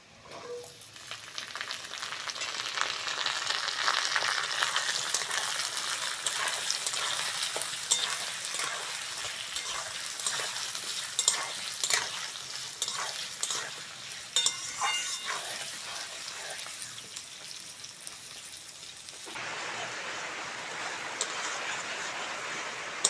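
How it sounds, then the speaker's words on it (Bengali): Potatoes tossed into a pan with already-fried onions sizzle loudly and steadily, with repeated stirring scrapes and clatter against the pan, close and alone, the hiss easing toward the end. "পেঁয়াজটা ভেজে নিয়েছি এবার আলুগুলো দিয়ে দেবো"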